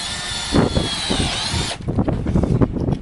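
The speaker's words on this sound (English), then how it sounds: "then you just put these screws on" Power drill whirring as it drives screws through a hinge into a wooden gate post, a loud close burst of motor whine that stops after about a second and a half, followed by clattering handling noise.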